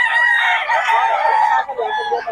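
Several banded roosters crow loudly and close together, overlapping, with clucking as the crowing fades. A voice is faintly present underneath.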